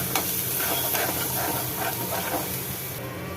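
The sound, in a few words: onion being sautéed in a pan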